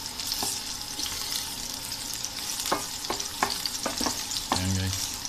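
Garlic frying in oil for kare-kare with beef oxtail, a continuous sizzle broken by a series of sharp spatula knocks and scrapes against the pan.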